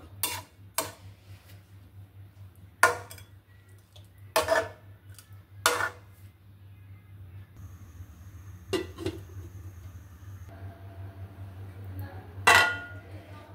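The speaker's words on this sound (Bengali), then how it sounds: "এখন আমি ঢেকে দিব।" A metal lid and utensils knock against a pot of hilsa fish curry in a home kitchen, making a series of sharp, separate clinks and clanks over a low steady hum.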